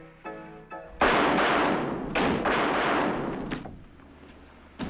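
A loud, sharp gunshot bursts in a 1942 crime film, followed by a second blast and a rumbling echo, close and harsh against a quiet background.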